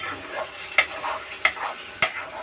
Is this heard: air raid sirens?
no